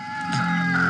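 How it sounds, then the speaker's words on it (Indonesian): A rooster crows close by in a brief, loud cock-a-doodle-doo that rises and holds its pitch, heard alone. "ada ayam jantan berkokok"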